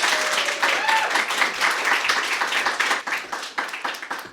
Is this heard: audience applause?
yes